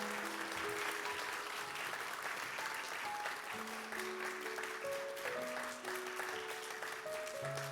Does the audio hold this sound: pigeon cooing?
no